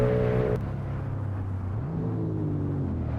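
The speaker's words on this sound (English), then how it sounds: "It spools up the turbo immediately." A heavily turbocharged Ford S650 Mustang with a Godzilla engine swap accelerates in Assetto Corsa, its engine tone droning steadily and climbing through a gear change, loud and close with no talking.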